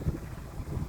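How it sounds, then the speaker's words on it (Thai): Wind rustles through a rural home garden in the green rainy season, a low steady rumbling gust with a couple of stronger buffets, no voices. "ลมพัด"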